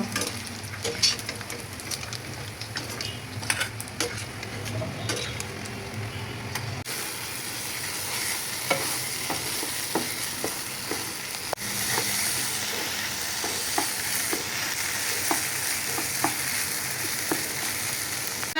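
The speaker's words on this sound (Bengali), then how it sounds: "দিয়ে ভালো করে মশলাটারে কষাইয়া নিব" Masala simmering with a splash of water in a pan gives a continuous crackling sizzle with hissing steam, steady and close throughout, with no talking.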